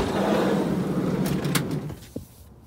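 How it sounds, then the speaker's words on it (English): The slow-moving sliding side door of a 1974 Volkswagen camper bus rolls along its track with a long, rumbling scrape. It ends in a soft latch clunk, close up, with no talking. "That door's a little slow"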